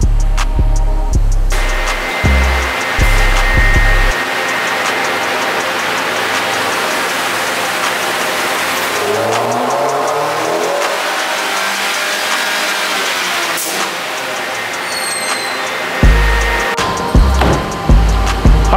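A 2018 Nissan Altima fitted with an SP intake revs up on a dyno, its engine note climbing in a long, loud sustained pull with a roaring intake sound before dropping back, with short blips before and after.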